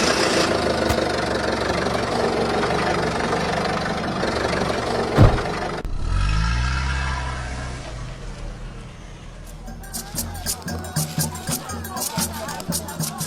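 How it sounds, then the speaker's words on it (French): A motorcycle rolls up on a rural road in the Kabadougou region of Côte d'Ivoire, its engine rumbling loud and close, then dropping to an uneven idle with irregular putters while people talk nearby. "voici une moto qui arrive"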